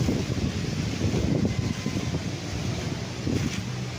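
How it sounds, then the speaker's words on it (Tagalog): Strong wind buffets the microphone on a flat farm lot beside a river in Liliw, Laguna, a steady broadband roar with low gusty rumbling that swells and eases throughout, no voices present. "malakas ang hangin mga kaprops"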